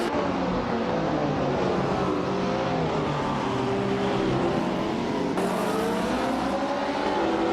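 Race cars in a racing video game pull away from the start, led by a 1966 McLaren M1B, engines revving and rising in pitch together in a steady, dense roar that swells again midway.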